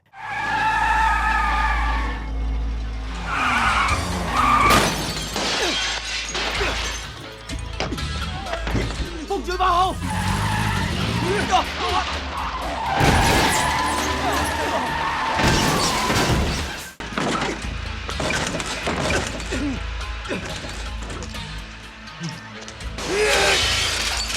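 Cars skid with squealing tires and crash with shattering glass during a night-time chase scene in an action film, a dense and continuous din with music and voices mixed in.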